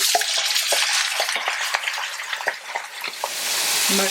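One kilogram of mutton hits hot oil for a mutton karahi, giving a loud, steady sizzle with repeated clinks and scrapes of stirring, then a brief low hum near the end.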